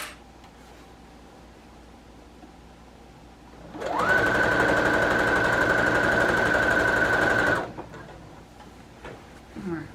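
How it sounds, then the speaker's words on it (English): A sewing machine stitches a straight seam in curtain fabric, starting after a quiet lead-in with a rising whir, then holding a loud, steady, rapid mechanical buzz for about four seconds before stopping abruptly. "Make sure you sew very straight."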